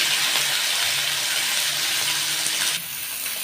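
Small mourala fish sizzle steadily in hot oil, a dense, loud, continuous hiss that drops slightly in level near the end, with no talking.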